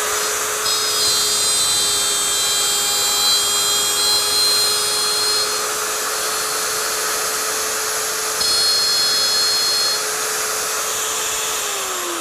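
A plunge router making a shallow first-pass groove a couple of millimetres deep in wood, a steady, loud high-pitched motor whine running continuously for about twelve seconds with a slight shift in tone near the end, with no voices.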